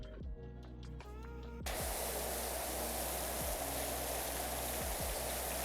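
A pressure washer sprays in PowerWash Simulator: a loud, steady hiss of water begins abruptly after a moment of quieter machine hum and continues unbroken at close range.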